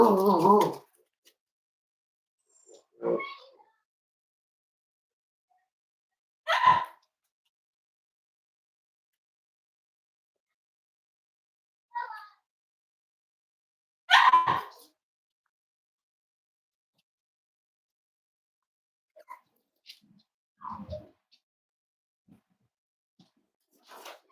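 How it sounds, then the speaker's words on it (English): A Cavalier puppy gives a few sparse, short barks and yips, separated by long silences, with a person talking intermittently in between. "Stop barking at me."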